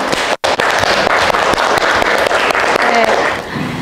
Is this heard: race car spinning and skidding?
no